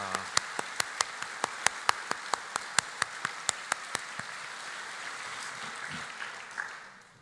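A church congregation at Youngnak Church claps together during a special dawn prayer service, starting with a steady rhythmic beat of sharp claps that blurs into a dense wash of applause before fading out.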